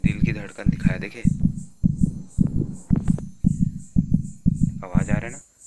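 Heartbeat in a horror video game: a loud, steady double-thump pulse repeats about ten times, close and prominent, with a faint high tinkling overhead and a brief breathy sound near the start.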